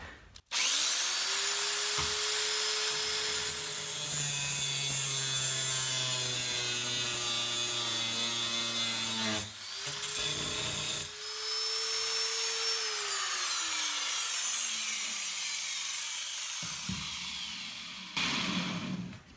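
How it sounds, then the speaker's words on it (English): A rotary power tool cuts a groove into a stripped screw head, giving a sustained high whine that shifts pitch under load, pauses briefly, resumes, then winds down, close and alone without talk. "One of the ways you can fix that is cut a groove into it, turn it into a regular screw"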